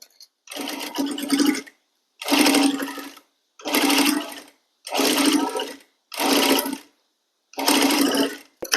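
A sewing machine stitches lace onto a kurti in six short, even bursts separated by brief pauses, close and clear with no talking.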